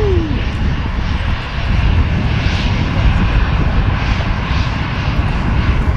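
EasyJet Holidays airliner at Manchester Airport, a loud, continuous jet engine roar rolling steadily throughout, heard from nearby without talking.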